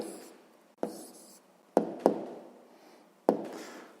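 An answer to a sixth-grade math exercise being written by hand: a few sharp, separate taps and knocks of the writing tool on the surface, with softer scratchy strokes trailing after each one, close and quiet.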